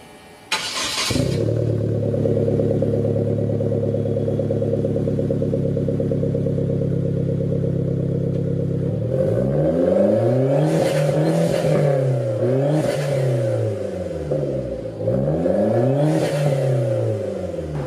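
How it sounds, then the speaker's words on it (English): A car engine idles steadily with a low burble through an ISR GT single-exit exhaust, then revs hard several times in rising-and-falling sweeps, loud and close. "This is again ISR, their GT single exit exhaust."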